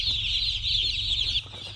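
Dense peeping and cheeping of a large flock of baby chickens spreading out across a commercial poultry house, a continuous high chorus at close range with a low mechanical hum underneath.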